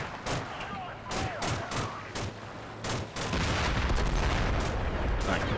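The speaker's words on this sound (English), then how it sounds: "That could just be our spotting rounds for the mortars, which are unfortunately a bit off target" Mortar spotting rounds in the Combat Mission: Cold War video game, a rapid series of sharp booming impacts and gunfire cracks that give way to a loud, dense rumbling barrage, with a voice talking over it.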